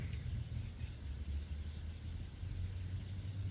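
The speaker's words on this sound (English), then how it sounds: "what I'm hearing are the cars outside" Low, steady rumble of cars passing outside a room where a 1934 American Bosch 460A antique radio is being repaired, faint and continuous with no talk.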